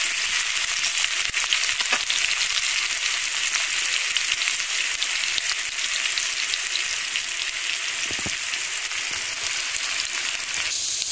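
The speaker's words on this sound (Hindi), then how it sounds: "इसको हम ब्राउन होने तक भूनेंगे।" Vermicelli browning in a hot pan gives a steady, bright sizzle that hisses on without a break, with a few faint stirring scrapes. It is close and constant, with no talking.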